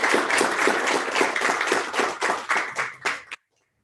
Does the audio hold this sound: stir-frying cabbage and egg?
no